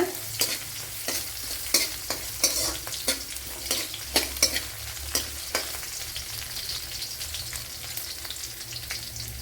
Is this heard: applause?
no